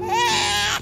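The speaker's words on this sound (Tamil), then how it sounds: "ஏதோ குழந்தை அழுகிற சத்தம் கேக்குதுடா" A baby cries in one brief, loud wail close by, rising and then holding before cutting off.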